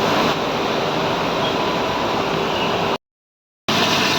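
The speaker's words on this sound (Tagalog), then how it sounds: "Ito po kabayan, ini-sprayan ko ng tubig" Pressurised water sprayed into a clay-clogged drain channel gives a loud, steady, broadband hiss, broken by a brief gap of silence before the spray resumes.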